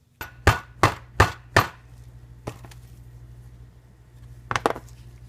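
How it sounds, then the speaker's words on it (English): A socket tapped onto an old oil seal to drive a new front seal into a Toyota RAV4 engine: four sharp metallic taps in quick succession, then a single tap and a final cluster, close and crisp. "put this socket on top and just gently tap this"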